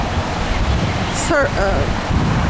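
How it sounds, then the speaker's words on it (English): Ocean waves wash steadily on the west side of Oahu, a broad continuous roar with wind noise, while a voice briefly speaks over it midway. "There's some fairly good waves going"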